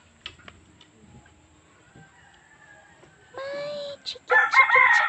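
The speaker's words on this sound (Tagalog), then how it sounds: "May alaga rin silang roaster. Pangsabong." A fighting rooster crows loudly and close, a drawn-out call followed by a second harsh, rising crow after a stretch of quiet rustling and faint clicks.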